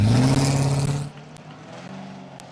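A Crown Vic race car roars past at Midvale Speedway on its victory lap, its engine loud and near with a steady rising tone, then dropping off quickly to a distant drone.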